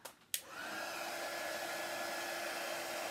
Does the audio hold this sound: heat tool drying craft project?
yes